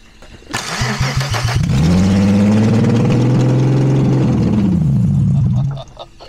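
A Peugeot 206 fitted with a VR6 engine and straight exhaust cranks, fires up and roars loudly at a steady idle, then cuts out and stalls after several seconds; close and unmuffled, with a brief voice underneath.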